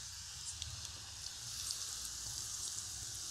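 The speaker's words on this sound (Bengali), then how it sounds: "কতটা ভালোভাবে ফুটছে দেখুন।" Egg tadka curry bubbles in a pan on the stove, giving a steady, soft sizzling hiss with faint crackles throughout and no voices.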